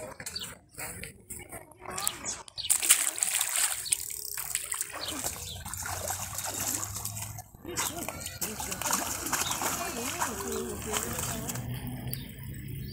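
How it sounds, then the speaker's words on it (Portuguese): A small fish slips back into the water at a fishing park, making a brief splash and sloshing amid outdoor noise while someone talks over it. "Vou devolver ele pra água, crescer bem mais,"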